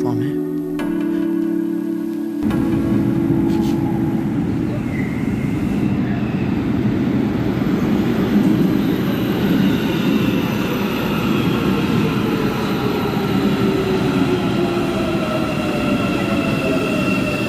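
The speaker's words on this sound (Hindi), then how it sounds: "और दोस्तों ये मेट्रो का प्लेटफॉर्म है।" Underground train noise fills a metro platform: a steady, loud rumble with whining motor tones that slowly rise and fall in pitch.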